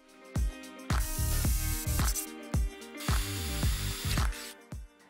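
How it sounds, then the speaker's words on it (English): A 10mm drill bit bores a hole through the sides of a DIY garden drinking game, heard as a series of short, loud, ratcheting bursts that start and stop repeatedly, with no talking. "I can use the exact same 10mm drill bit to drill the hole through the sides now"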